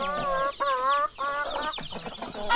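Several chickens cluck and squawk close by in short, overlapping bursts.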